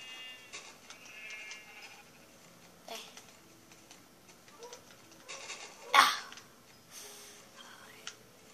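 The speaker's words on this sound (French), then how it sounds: "Mouton." In a video game, a sheep gives soft, intermittent bleats amid faint background game sounds, with one sharp, louder hit partway through and no speech.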